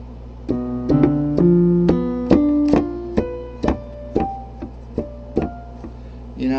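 On a guitar, an arpeggio that includes the sixth is picked note by note in a steady rhythm, each clear plucked tone ringing briefly over a faint low hum.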